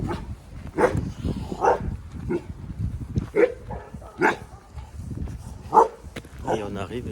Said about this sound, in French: Chien loup, il fait des sauts partout.